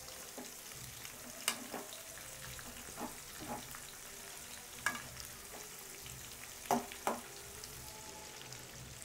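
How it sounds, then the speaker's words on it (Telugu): Chicken 65 pieces fry in hot oil with a steady low sizzle, punctuated by a few brief scraping clicks as they are turned in the pan; no talking. "ఇలా తిప్పుకుంటూ ఉంటే కింద పైన అంతా చక్కగా వేగిపోతాయి."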